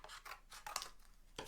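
Scissors snipping through cardboard pieces cut for a papier-mâché Jack Skellington jack-o'-lantern, a run of quick, close rasping cuts in irregular bursts with no talking.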